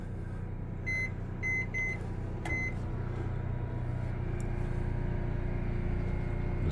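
A steady low hum from a microwave oven running on generator power, with a few short keypad beeps near the start and a continuous drone throughout.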